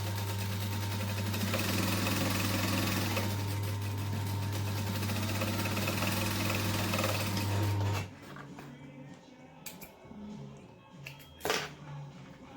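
A sewing machine set to a 2.5 stitch length stitches around the edge of an interfaced bag piece in a steady, close, continuous whir for about eight seconds, then stops, leaving faint handling noises and clicks.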